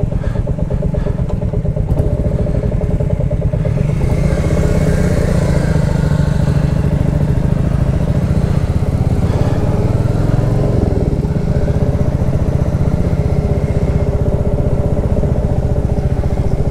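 A motorcycle on a long highway ride from Delhi toward Jammu, its engine droning steadily and loud throughout with rumbling low end and rattling clatter, wind and road noise layered over it, no talk.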